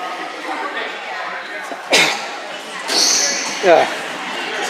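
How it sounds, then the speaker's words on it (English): A game commentator's single sharp sneeze bursts out up close amid background crowd noise at a boys' team game, followed by a short voiced sound shortly after. "oh my goodness, I gotta sneeze"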